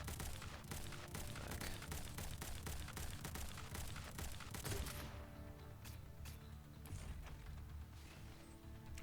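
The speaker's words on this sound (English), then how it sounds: "Why was there a grenade launcher sound right there towards the end?" Grenade launcher firing in a video game battle, its thumps buried in dense, continuous gunfire and explosions, all at a low, steady level.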